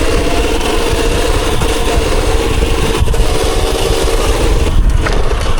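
A motorcycle engine runs at low throttle during wheelie practice outdoors, a loud steady close-up drone with slight rises in pitch and no speech heard.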